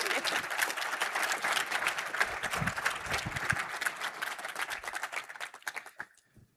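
Audience applause at a corporate keynote, dense sustained clapping from a large crowd that tapers off and fades out near the end.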